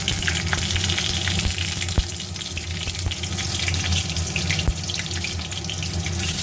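Black cumin seeds and green chillies sizzle in hot oil, a dense, even hiss that holds steady throughout, broken by a few sharp pops and clicks.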